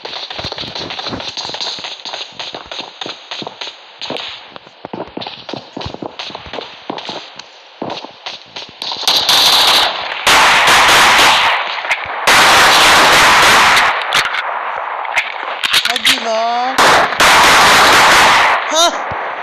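Gunfire in the mobile battle-royale game PUBG Mobile, with bursts of rapid automatic shots from an M416 or AKM rifle. Quieter shots come first, then loud close volleys, while someone shouts excitedly over them.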